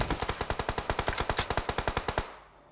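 Automatic gunfire in the video game PUBG Mobile: a rapid burst of about twenty evenly spaced, loud, close shots that stops abruptly and leaves a short fading tail.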